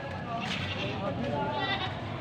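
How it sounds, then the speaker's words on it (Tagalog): Mother goats bleat in overlapping calls close by, a steady noisy chorus of animals over the whole stretch, with a voice talking under it. "Mga inahin kambing oh."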